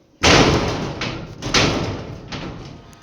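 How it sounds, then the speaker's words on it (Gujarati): A steel door on a newly built 30 by 50 foot steel-framed godown bangs in the wind, its missing outer stopper letting it swing: several loud, close metallic slams and thuds at uneven intervals, each ringing briefly before fading. "એટલે પવનમાં દરવાજો બહુ હલે છે"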